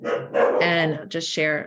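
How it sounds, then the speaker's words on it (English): A dog barks a few times in the background, with short loud yips overlapping a person who is speaking. "apologies for the dog in the background"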